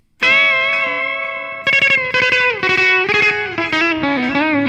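An electric guitar through a clean Deluxe Reverb amp model on an HX Stomp XL plays a long sustained note, then a quick run of picked notes with reverb tails, close and loud.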